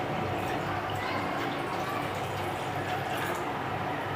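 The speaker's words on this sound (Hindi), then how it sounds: "पानी डाल देते हैं और बॉईल होने का वेट करते हैं" Water poured into a frying pan on a home stove to boil noodles, a steady, continuous splashing rush that stays even and fairly loud for the whole stretch.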